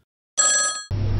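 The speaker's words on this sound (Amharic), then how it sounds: "ስልክ" A telephone bell rings in one short burst of bright, tonal ringing, cut off abruptly by a loud low-pitched hum and noise, with no speech.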